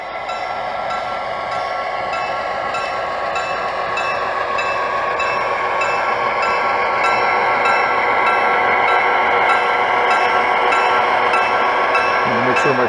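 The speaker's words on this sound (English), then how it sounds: "let's get the train moving." A model Amtrak train runs along a model railroad with a continuous whirring, rattling rumble that stays steady and slightly grows louder over time.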